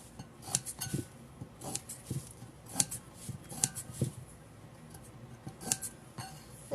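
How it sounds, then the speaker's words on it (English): Scissors snip through fabric to cut thin strips, a series of crisp, close metallic cuts in an uneven rhythm, quiet and alone. "Now we're going to take our scissors and we're going to cut"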